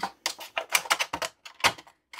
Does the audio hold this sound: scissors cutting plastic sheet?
yes